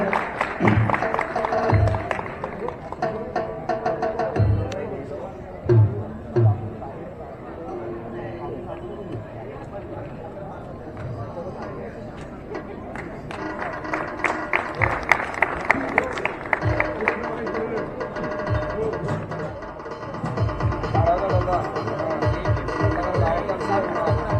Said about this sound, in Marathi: सर्वांनी जोरदार टाळ्या वाजवायच्या.